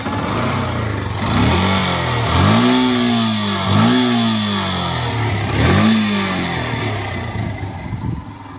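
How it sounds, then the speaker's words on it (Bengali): Engine of a Yamaha FZS V1 motorcycle with about 200,000 km on it, running alone and close by, with a steady idle broken by three or four quick throttle blips that rise and fall in pitch. "ফার্স্টে আমরা এই বাইকের একটু সাউন্ড শুনে নিই।"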